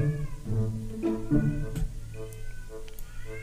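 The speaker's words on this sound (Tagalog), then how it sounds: "Maingay yung pusa ko sa labas eh." A cat meows repeatedly outdoors in drawn-out, wavering cries, somewhat distant, with a few overlapping yowls, as if fighting.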